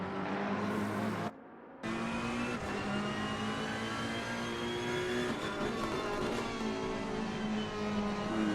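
Onboard GT3 race car engine at Monza, loud and sustained with steady harmonic drone and shifting revs, a brief dropout near one second, no talk.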